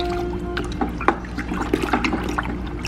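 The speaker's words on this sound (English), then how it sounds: "Now we're going to put some more water in here." Water pours into a fermenting bucket while mead is being made from honey, a steady splashing, gurgling stream with small bubbling pops, close and continuous throughout.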